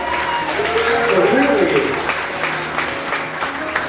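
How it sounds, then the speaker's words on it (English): Wedding guests applaud a just-finished ceremony, a steady wash of clapping filling the room as an announcer's amplified voice speaks over it. "How about a big round of applause for that beautiful ceremony?"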